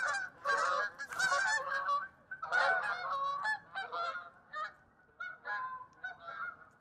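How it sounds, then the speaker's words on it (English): A flock of geese flies overhead honking repeatedly in overlapping, clamorous calls that stay fairly close and loud, with brief gaps, and no talking. "Geese are coming."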